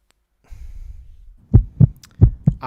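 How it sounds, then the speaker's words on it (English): Four strong, evenly spaced heartbeat thumps come after a low rumbling lead-in, close and loud, with no talking. "that's a heartbeat"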